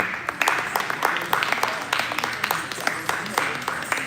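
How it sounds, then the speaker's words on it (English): Scattered, uneven claps from an audience at the Purdue Navarasam 2025 cultural show, sharp and fairly close, rising and falling for a few seconds with a murmur of voices underneath. "I would like to call the audience to give a big round of applause"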